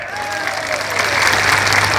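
A large crowd at an outdoor political election rally breaks into applause, the clapping swelling steadily louder over a constant low hum.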